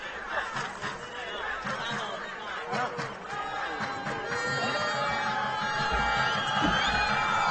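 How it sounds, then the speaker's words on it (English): Home crowd of Israeli fans roaring and shouting at an American football game between Israel and Belgium, a continuous loud crowd din that swells toward the end. "Israeli crowd trying to make some noise and get the Israeli defense into this game right now."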